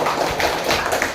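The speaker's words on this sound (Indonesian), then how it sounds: "Kita berikan tepuk tangan Bapak Ibu." An audience at a retiree association's officer installation ceremony in Palembang applauds, a dense steady wash of many hands clapping through the whole short stretch.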